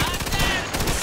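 Rapid machine gun fire in the video game Mafia II, a dense close burst of repeated shots filling the whole moment at a loud, steady level.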